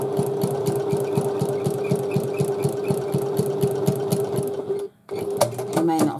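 Sewing machine stitching a seam on a domed handbag, a steady fast run of even mechanical pulses for about five seconds, then a brief stop and a few short restarting clatters.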